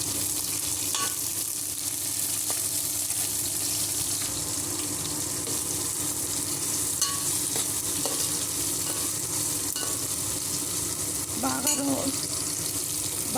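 Onions and green chillies fry in a hot pan for kichidi, a steady close sizzle running throughout with scraping stir strokes and occasional clinks, no talking over it.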